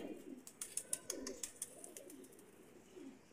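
Soft, low cooing from Teddy Golden pigeons in a breeder's loft, quiet rolling murmurs with a few sharp clicks and taps over the top, and no one speaking.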